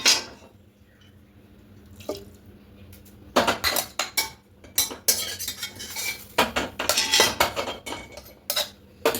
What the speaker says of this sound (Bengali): এবার এখানে জলটা দিয়ে দেবো কড়াইয়ে জল দিয়ে ওই জলটা দিয়ে দেবো